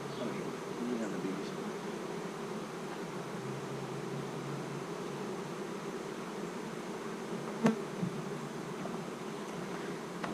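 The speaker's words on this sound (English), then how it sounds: "We have the bees." Bees buzz in a steady, faint hum that continues unbroken, with a soft tap or knock near the end.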